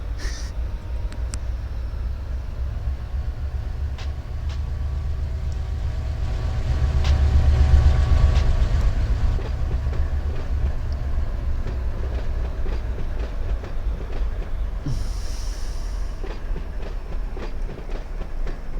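A heavy locomotive-hauled train in the Run8 train simulator game gives a steady, close, low rumble with clickety-clack texture that swells midway as the throttle notches up, then settles; a brief higher tone sounds near the end.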